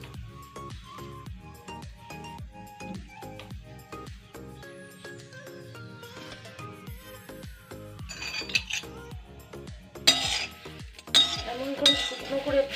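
Neem leaves dry-fry in a hot metal pan as a utensil stirs them, making repeated close metallic clinks and scraping taps in an uneven rhythm that grow louder and busier toward the end.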